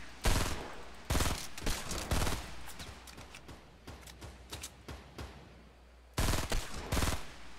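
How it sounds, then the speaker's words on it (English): Gunfire from the Fortnite video game cracks out in rapid bursts, loud, dense volleys separated by short pauses, heard on its own without talk. "Sniper hand cannon."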